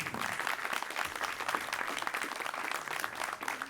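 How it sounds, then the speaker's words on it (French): An audience at a ceremony for the handover of a cheque applauds the mayor in a lively, continuous round of clapping for nearly four seconds, with scattered louder individual claps. "je pense qu'on peut l'applaudir"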